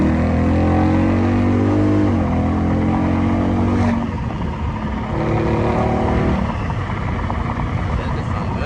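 A Dodge Charger 392 Scat Pack V8 fitted with a Mopar cold air intake, loud and close with steady harmonic engine drone that shifts pitch as it changes gear, under a noisy cabin.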